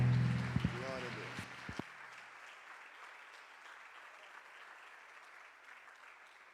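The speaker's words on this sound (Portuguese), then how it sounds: "Dê uma salva de palmas para o Senhor, porque Ele é digno." Applause from a church congregation at a parents-and-children conference, breaking out after a brief spoken phrase and carrying on as sustained clapping that slowly fades across the clip.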